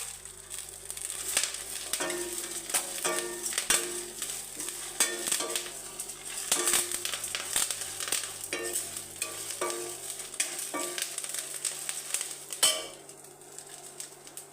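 Curry leaves crackle and pop in hot oil with dried red chillies in the pan for curry-leaf chitranna, giving a steady dense sizzle broken by sharp spatters and occasional stirring clinks, close and fairly loud throughout.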